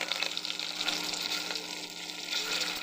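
Curry leaves sizzle in hot oil for a capsicum palya tempering, a close, steady crackling hiss with small spitting pops and no voices.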